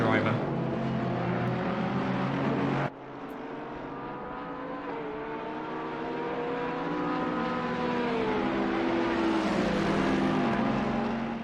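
Ferrari and Bentley GT race cars lap Imola in Assetto Corsa Competizione, their engine notes rising and falling continuously through gear changes with a sharp cut near three seconds, loud and steady under a commentator's talk.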